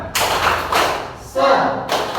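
A group of trainee teachers in a classroom doing a rhythmic spirit clap, a few loud, close bursts of clapping with short gaps between them, with voices mixed in.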